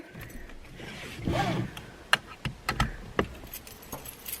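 Car keys jangle inside a modified Ford Focus ST: a soft rustle first, then several sharp metallic clinks in quick succession, close and fairly quiet, with no talking.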